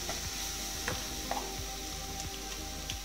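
Turmeric powder and masala frying in a pan while being stirred, a steady close sizzle with a few faint scrapes of the spoon, no talking.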